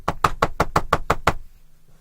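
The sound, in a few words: knocking on a door, imitated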